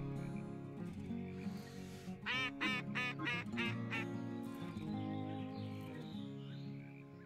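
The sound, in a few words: duck call blown to imitate duck quacks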